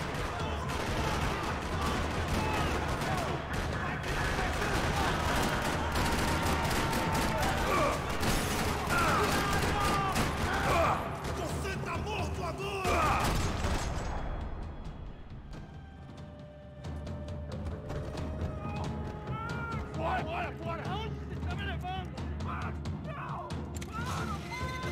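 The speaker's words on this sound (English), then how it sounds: "Another parking lot rattling with gunfire." Gunfire rattles through a parking lot in the video game Max Payne 3, rapid automatic bursts and shots with metallic mechanism clatter, dense for about fifteen seconds before thinning into scattered sounds.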